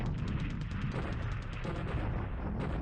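Airstrikes hit runways in a WWII strategy video game set in January 1942, a dense rumble of overlapping explosions and rapid rattling blasts that rolls on without pause for a few seconds, loud and heavily layered.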